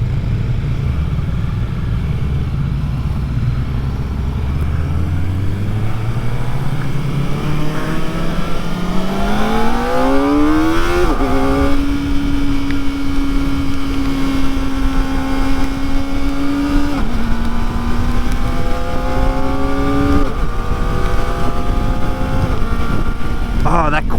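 Kawasaki ZX4RR motorcycle revving hard as it accelerates, the engine note climbing steadily and then dropping with each rapid quick-shifter gear change, loud and close against steady wind roar.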